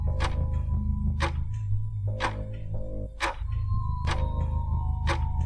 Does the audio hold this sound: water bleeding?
no